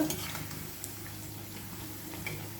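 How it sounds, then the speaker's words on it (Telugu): Alasanda vada, black-eyed pea fritters, frying in hot oil over a medium flame, giving a steady low sizzling hiss with faint bubbling throughout, close and even, with no voices. "మంటను మీడియం ఫ్లేమ్లో పెట్టుకొని వేయించుకోవాలి"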